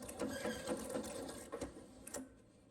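A sewing machine stitching quilt binding runs in a close, steady rapid patter for about two seconds, then stops with a couple of clicks and quiet.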